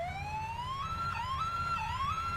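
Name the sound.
ambulance siren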